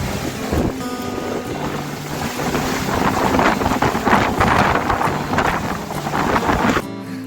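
Near Vasudhara waterfall close to Mana village, a loud, steady rush of falling water blends with strong gusting wind buffeting the microphone, continuous for several seconds before ending abruptly.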